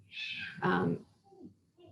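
A pet cat screams indoors with a short, loud, strained yowl followed by quieter trailing cries, close to the microphone.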